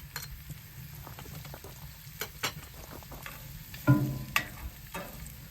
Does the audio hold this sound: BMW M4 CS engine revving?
no